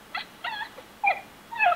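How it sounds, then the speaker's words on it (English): A dog whimpers in a horror game, with four short, high, plaintive whines spaced apart over quiet background hiss. "Aww. It's a dog."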